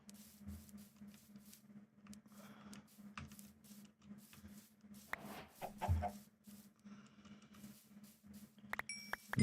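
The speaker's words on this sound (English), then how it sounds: "You get some chickens going up there and stuff." Chickens cluck in a crafting video game, small scattered clucks and pecking patters over a steady low game hum, with brief sharp clicks and a louder burst near the end.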